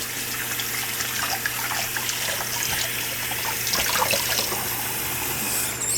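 Water runs steadily from a tap during kitchen washing while making an egg custard pie, a continuous splashing hiss with small irregular spatters, close and alone.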